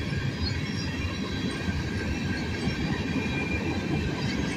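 An SD70MAC diesel locomotive hauls a freight train past, heard as a steady, dense rumble of rolling cars with rail clatter and faint wheel squeal, continuous and moderately close, with no voices.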